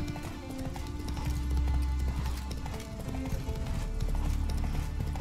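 Horse hooves clip-clopping at a steady canter while riding in The Witcher 3: Wild Hunt, a continuous rhythmic thudding over game ambience and music, with a brief whinny.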